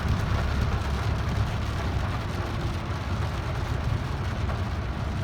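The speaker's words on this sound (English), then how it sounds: "Rain like peas" Heavy rain drums steadily on a car as it drives through flooded, potholed roads toward Icacos, a dense continuous wash mixed with low engine and road rumble, loud and unbroken throughout.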